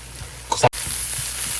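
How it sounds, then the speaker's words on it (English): Rice sautés with tomatoes in a pan as a steady, close sizzling hiss, broken by a brief clatter of stirring midway. "Now the rice here is pretty well sauteed at this point"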